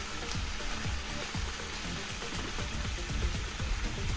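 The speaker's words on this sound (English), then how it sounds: "This is basically steaming it while also kind of frying the bottom of it." Broccoli in olive oil sizzles and crackles steadily in a covered pan, a close, continuous frying hiss with small pops scattered throughout and no voices.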